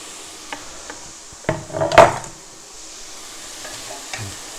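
Carrots and onions in hot oil in a pan give a brief burst of sizzling as they are stirred, with a few wooden scraping knocks. The sizzle swells loud, then fades into quiet kitchen background.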